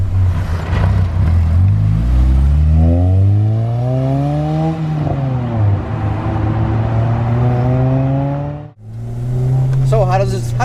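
A supercharged Honda RSX Type S A-Spec drives under load, its engine note climbing steadily in pitch through a long pull, dropping briefly as a gear changes near the end, then rising again, loud and close throughout.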